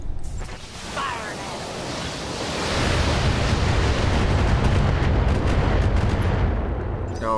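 Mech weapons fire on a turret in the Battletech video game: a dense, rumbling barrage that swells sharply about halfway through and then holds as a loud, sustained burst of blasts.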